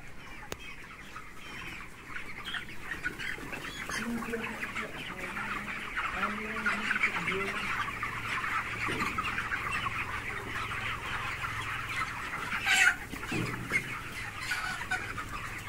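Chickens on a poultry farm cluck and murmur continuously, with many overlapping birds close by and one louder squawk near the end. There is no speech.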